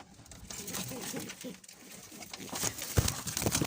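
Pigeons coo softly inside a coop where new birds have arrived and are laying eggs, with low rustling and faint background noise; the cooing sits close and fairly quiet, growing busier toward the end.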